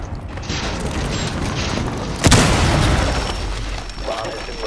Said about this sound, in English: Cluster charge going live.